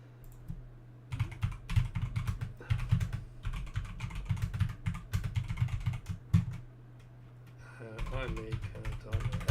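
Rapid, steady typing on a computer keyboard, close and fairly loud with dense clattering keystrokes and a few short pauses, under a constant low hum; a voice briefly joins near the end.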